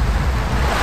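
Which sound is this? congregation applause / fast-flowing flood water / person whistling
fast-flowing flood water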